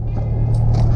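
Car engine pulling in second gear along a neighborhood street, a steady low rumble with a strong constant hum and a faint higher whine drifting above it, close and continuous for about a second.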